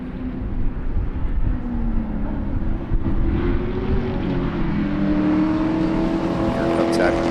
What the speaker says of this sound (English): Here comes that big old noisy Mustang. That thing is loud, man.